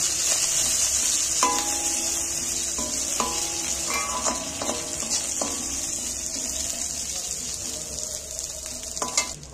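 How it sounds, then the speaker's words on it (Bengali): Green chillies and curry leaves sizzle and crackle in hot frying oil while being stirred, with scattered sharper pops and spatula scrapes over a steady frying hiss, close and alone with no talk. "দুটো কারি পাতা দিয়ে দিচ্ছি। দিয়ে তেলের মধ্যে আমি একটু নাড়াচাড়া করে নিই।"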